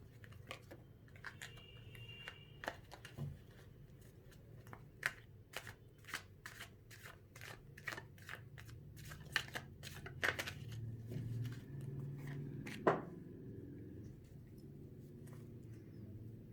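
Tarot cards shuffled by hand at close range, heard as a long series of quick, crisp riffling flicks in irregular bursts over a faint, quiet room background.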